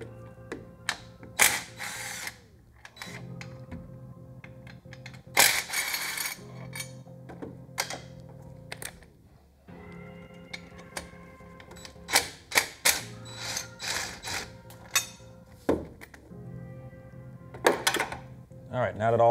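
Shifter cable bracket bolts on a J-series car are loosened with a hand ratchet, giving bursts of close, rapid metallic pawl clicking separated by short pauses, with clinks of tools and parts between them.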